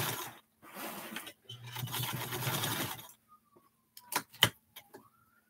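Sewing machine stitching quilt blocks in two close runs of rapid, even mechanical whirring, then stopping, followed by faint clicks and ticks of handling; no talking.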